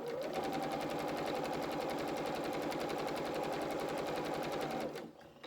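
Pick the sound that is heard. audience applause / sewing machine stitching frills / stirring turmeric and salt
sewing machine stitching frills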